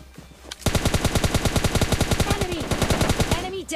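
Rapid automatic gunfire in PUBG Lite, a loud close burst of evenly spaced shots lasting about three seconds after a brief quiet lead-in, with faint voice underneath.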